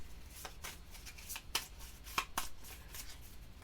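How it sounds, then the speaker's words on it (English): A deck of cards is riffled and bridged in a quick shuffle, several crisp bursts of close flapping with short gaps between them, quiet and alone, during a solo board game of Sentinels of the Multiverse. "So we're going to give this a quick shuffle."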